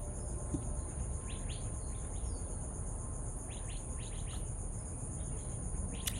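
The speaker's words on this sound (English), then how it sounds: "I got two different kinds of bird noises going on." Crickets trill steadily in the background while scattered bird chirps come and go over a dense, constant outdoor hum.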